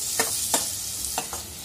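Onion and tomato fry with salt in a pan, giving a constant close sizzle broken by four short scraping strokes of a spoon.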